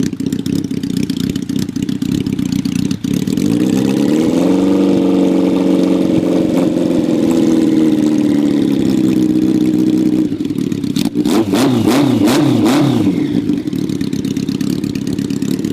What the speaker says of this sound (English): There she is, my '83 Honda Nighthawk bobber